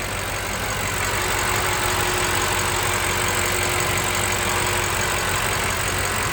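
A 2018 BMW M5's 4.4-litre twin-turbo S63 V8 idles steadily with a dense, even hum and a faint whine, loud and unchanging throughout with no voices.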